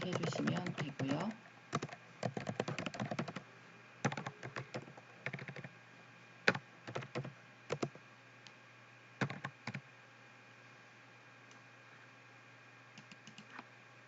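Someone types on a computer keyboard during an accounting software exercise: bursts of quick close key clicks separated by pauses, with a few single taps and a longer quiet stretch near the end.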